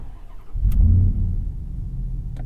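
A 2021 Ram TRX pickup engine rises sharply into a loud, close acceleration, then settles into a steady low drone with no talking.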